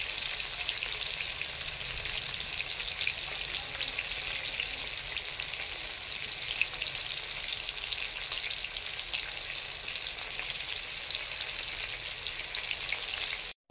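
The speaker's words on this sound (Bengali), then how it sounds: "এগুলো বন্ধুরা এরকমভাবে কম আঁচে কম জাল দিয়ে ভাজবেন" Masala fish pieces fry slowly in oil over low heat, giving a steady, close, dense sizzle that holds unbroken throughout and stops abruptly at the very end, with no voices.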